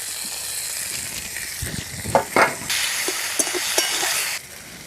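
Chopped tomato hits a frying cumin and coriander paste for a village-style fish curry, setting off a loud, steady sizzle with brief bursts of spatter and stirring, and no voices.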